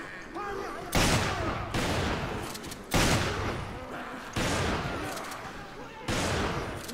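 Shotgun fire in the co-op video game Resident Evil 5, four loud booming blasts spaced roughly evenly, each one decaying before the next.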